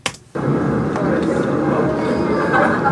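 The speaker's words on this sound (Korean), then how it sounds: "지금은 시끄러운 지하철 환경을 한번 만들어봤습니다." Loud, steady rumble of a noisy subway environment played back through a speaker, a broad continuous roar that sets in abruptly after a brief quieter moment and holds at a constant level.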